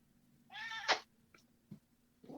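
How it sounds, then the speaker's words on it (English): A big black and white cat meows loudly and close by, one long drawn-out cry followed by a short pause and the start of a second meow, in an otherwise quiet indoor setting. "I'm being visited by a big black and white cat."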